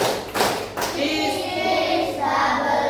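A classroom of students claps a quick patterned rhythm together, sharp group hand claps in close bursts, with voices chanting along.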